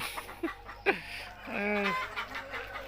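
Soft, scattered clucking from chickens nearby, with a drawn-out call in the middle against quiet background noise.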